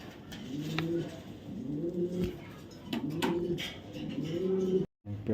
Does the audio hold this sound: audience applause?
no